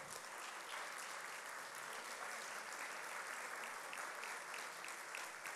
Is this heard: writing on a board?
no